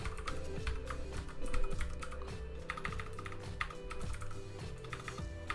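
Steady, rapid clicking of keys as someone types code on a computer keyboard, close and continuous with no talking.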